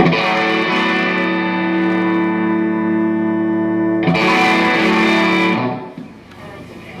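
Electric guitar through a boutique amp with the master volume set in rings out a sustained overdriven chord, then a brighter, harsher strummed chord cuts in at about four seconds and fades quickly; close, loud and without voices.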